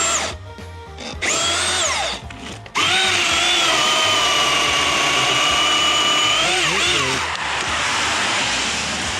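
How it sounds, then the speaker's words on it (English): A battery-powered chainsaw cuts into a decayed tree during a hazardous removal. The motor whines loud and close, stutters in bursts for the first few seconds, then holds a steady high drone through most of the cut before easing off near the end. "Man, that thing is vicious in the cut."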